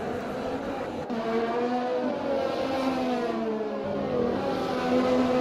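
Ferrari Formula 1 car engine in the racing game F1 2020, a continuous high-revving whine that rises and shifts with gear changes, steady and close throughout.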